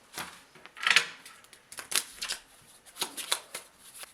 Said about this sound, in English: Shuffle the jokers and the spades together to create the Hollows deck.